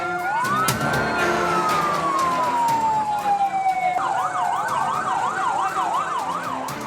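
A loud ambulance siren arriving in Makale, Tana Toraja, South Sulawesi, first a long rising-and-falling wail, then a fast alternating yelp, with street noise beneath.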